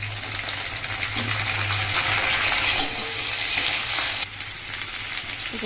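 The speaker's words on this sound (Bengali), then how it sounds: "কুমড়োগুলো আমার লাল লাল করে ভাজা হয়ে গেছে" Steady, dense sizzling of pumpkin pieces frying in hot oil, continuous and close, with a low hum underneath and no voices.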